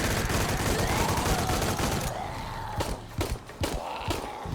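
Assault rifle fire from Shadow of the Tomb Raider rattles in a loud, continuous burst, then breaks into a few scattered sharp shots amid combat ambience.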